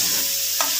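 A bhujia mixture roasting in a pan gives off a steady, loud sizzle, with the scrape of a stirring spoon across the metal close by.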